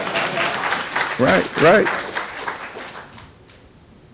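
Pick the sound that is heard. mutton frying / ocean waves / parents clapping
parents clapping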